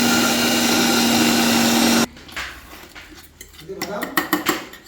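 Peanuts and chili are pounded and mashed into bharta with salt, uneven knocking and scraping thuds that grow stronger, after a steady mechanical whine that cuts off abruptly.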